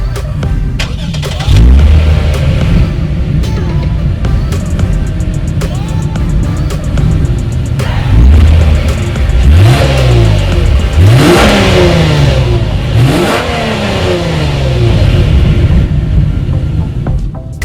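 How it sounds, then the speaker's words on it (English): A 2019 Lexus IS 300 F Sport with a dual exhaust and chrome tips is revved repeatedly, loud close engine blips rising and falling in several bursts over a steady idle, with no talking. "As always, here is that exhaust clip."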